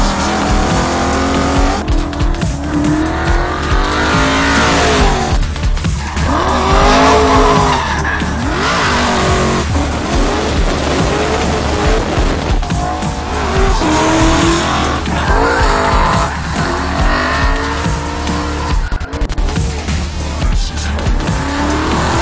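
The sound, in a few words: RTR X car drifting sideways, tires squealing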